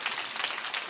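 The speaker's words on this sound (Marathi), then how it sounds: "याच्याकरता पांचाळ महाराजांसाठी टाळ्या" Audience at a kirtan gathering claps briefly, a dense patter of many hands at moderate distance, soft and short.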